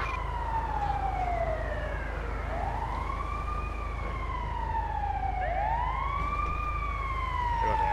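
A police car siren in the video game GTA V wails on a code 3 emergency response, with long sweeping rising and falling tones repeating steadily over a low engine rumble.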